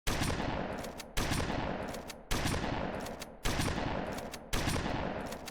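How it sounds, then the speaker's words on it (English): M90 shotgun in the video game Dawn of the Flood fires five loud, evenly spaced blasts about a second apart, each sharp crack fading into a short decaying tail before the next shot. "The M90 shotgun with new recoil animations and whatever."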